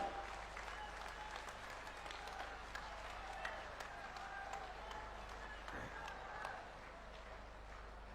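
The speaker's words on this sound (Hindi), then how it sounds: "जोरदार तालियों के साथ शिवराज सिंह जी को धन्यवाद दीजिए।" Sustained, dense crowd applause at an outdoor political rally for a Madhya Pradesh chief minister in Sheopur. It rolls on steadily for about eight seconds with faint crowd murmur beneath, easing slightly near the end.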